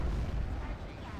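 Heavy gunfire and booming battle noise from a Gundabad campaign strategy video game, a dense continuous low rumble of shots and blasts throughout with no clear gaps.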